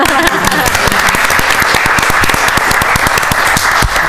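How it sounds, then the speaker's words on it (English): Loud, steady applause from an audience at a school committee meeting, dense clapping with sharp individual claps standing out, continuing throughout without a break. "please clap for these guys"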